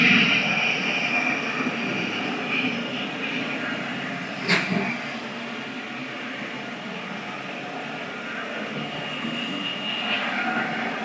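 A Mopit Mini floor scrubber runs with a continuous whirring drone as it is pushed into a corner, steady and fairly close, with a brief knock midway.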